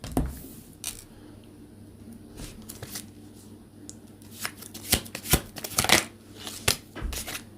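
Tarot cards being shuffled and drawn from the deck by hand: a series of sharp, close riffles and slaps of card stock, growing busier toward the end, with no talk.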